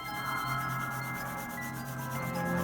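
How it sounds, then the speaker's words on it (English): Pencil eraser rubbing back and forth across paper while cleaning up guide lines on a jack-o-lantern drawing, a steady close scrubbing texture lasting the whole moment with no talk. "I'm just going to erase the lines I don't need anymore"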